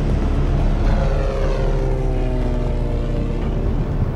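A propeller airplane engine in flight drones steadily and loudly throughout, a dense, even roar with no voices over it.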